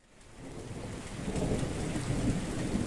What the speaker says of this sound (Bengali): টিপ টিপ করে বৃষ্টি পড়ছে, পুরো আকাশ ছাই ছাই মেঘে ঢাকা।